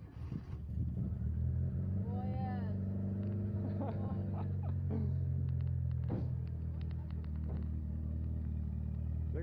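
A rally car engine turning over and running, a low steady rumbling idle that holds throughout, with people talking over it.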